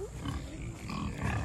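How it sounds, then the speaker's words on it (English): Antsy pigs on a farm after a big storm grunt and snort continuously at close range, a dense, rough animal noise with no talking. "The pigs are like so antsy."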